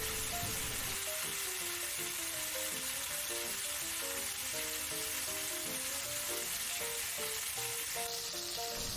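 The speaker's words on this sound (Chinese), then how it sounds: "等佢自己慢慢煎熟嘅。" A Kyoto-style pork chop pan-fries undisturbed over medium heat, giving a constant, close sizzle with fine crackling; light background music plays underneath and no one talks.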